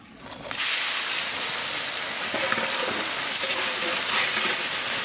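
Chopped onions with black cumin and dried red chilli frying in the fish-frying oil for a Bengali katla fish curry, a steady loud hiss and sizzle that starts after a brief quiet moment and runs on unbroken.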